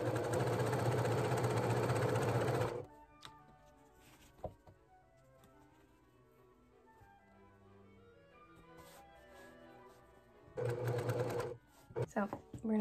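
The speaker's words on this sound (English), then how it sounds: "this way I can chain sew it without having to worry about stopping and starting." A sewing machine chain-sews strips of quilt binding in loud, steady whirring runs, one at the start and another near the end, with a quiet stretch between where someone talks.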